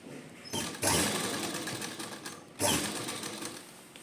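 Sewing machine stitching pearl lace onto a dupatta runs in two bursts, a steady rapid mechanical whir that pauses briefly and then starts again, fairly close and loud with no talking.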